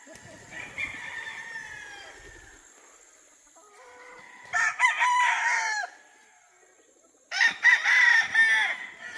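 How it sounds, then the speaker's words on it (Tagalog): Roosters crow at a gamefowl farm range where banded stags and pullets are kept, two loud, close crows rising and falling in bursts, with quieter clucking and bird calls in between. "na mga late born banded na stags tsaka pullets."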